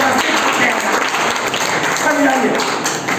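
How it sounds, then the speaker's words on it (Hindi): An audience of students claps loudly and continuously at a high school health and wellness event, the applause steady and close, with people talking over it. "इनके लिए जोर से ताली बजाइए"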